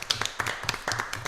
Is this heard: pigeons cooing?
no